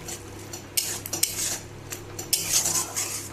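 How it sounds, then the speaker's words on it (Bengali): Green peas sautéed with spices in a pan for a mixed vegetable curry, with sharp metal clinks of a utensil against the pan in irregular bursts over a low background hum, close and fairly loud. "এবার মটরশুঁটিগুলো এটার মধ্যে দিয়ে কষিয়ে নেব"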